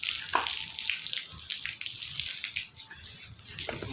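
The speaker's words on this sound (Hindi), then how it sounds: "छत धो रहे हैं, छत साफ कर रहे हैं।" Water runs and splashes steadily across a rooftop as it is hosed and washed down, a continuous hissing wash with small spatters and no voices.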